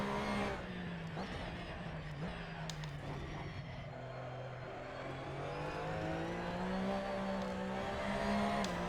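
A car engine in a sim racing game, driven with load-cell pedals, revs steadily with rising and falling pitch as the throttle is modulated, heard alone without talk.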